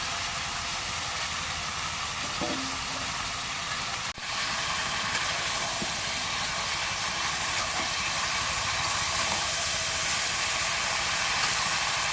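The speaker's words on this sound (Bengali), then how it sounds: "এই যে দেখেন চুলার মধ্যে জাল দিয়ে ধান সেদ্ধ করতেছে" Paddy being boiled in a pot over a clay stove fire, giving off a continuous, even hiss of steam throughout with one brief knock near the middle.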